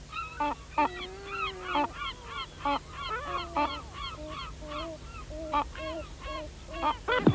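Gulls calling repeatedly at a colony, a dense overlapping series of loud, harsh squawks and yelps from several birds, close by, with no talking heard.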